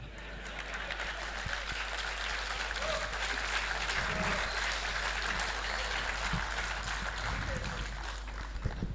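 Audience applause during a political speech in Hindi about the media and government, dense and steady throughout at moderate distance, with faint voices mixed in.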